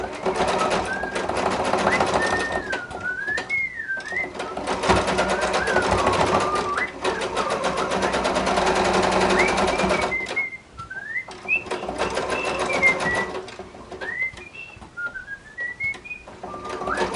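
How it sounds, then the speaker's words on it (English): Rapid mechanical chatter of a regular sewing machine stitching a cardigan neckband in bursts, with someone whistling a wandering tune over it. "I'm just gonna do that on my regular sewing machine"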